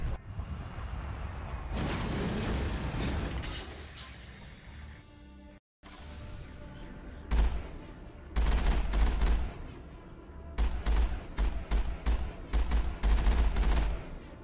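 Heavy cannon fire from the Mako armored vehicle in Mass Effect, loud repeated booming shots in bursts, punctuated by a brief silence and then a rapid run of blasts over rumbling engine and battle noise.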